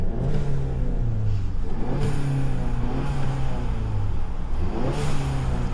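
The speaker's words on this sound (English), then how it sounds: "when you rev it, you can really hear the turbo noise like crazy." A 2022 Ford Maverick Lariat pickup revs in steady, loud pulses with a rising and falling engine drone and turbo whir, close by and with no talking.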